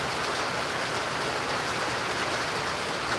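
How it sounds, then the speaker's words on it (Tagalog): Steady rain falling outdoors, a dense even hiss of drops throughout with no voices. "Kaya ngayon lang naman dito umulan."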